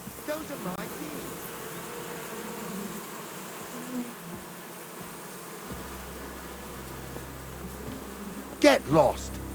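A swarm of bees buzzes steadily in Kingdom Come: Deliverance II, a dense close drone running throughout with brief louder bursts near the end.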